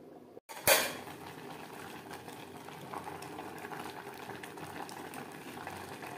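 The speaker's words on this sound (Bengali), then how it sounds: "চাল ও আলু বেশ ভালো করে ফুটতে শুরু করে দিয়েছে।" Rice and potatoes boil in a covered pot on a gas flame, making a soft, steady bubbling; a brief metallic clank comes near the start.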